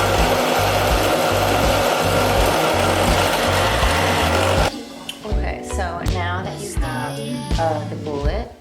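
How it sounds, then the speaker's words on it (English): Small bench drill grinding steadily into a brass bullet casing for a crystal necklace, a loud continuous whine for about four and a half seconds, then stopping into quieter handling clatter and faint voice sounds. "The bullet drill."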